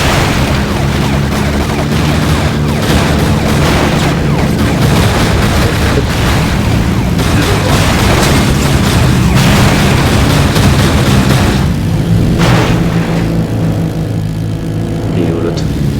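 Gunfire and explosions from the Pursuit Force video game: loud, dense and continuous, with repeated booms and rapid bursts over a steady rumble of engine-like noise.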